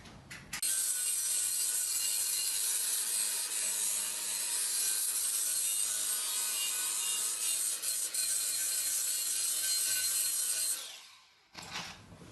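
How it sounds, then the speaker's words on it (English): An angle grinder fitted with a wire brush scours a rusted exhaust pipe, giving a loud, continuous abrasive whir and rasp for about ten seconds before spinning down; no one speaks. "Just using an angle grinder with a wire brush attachment on it."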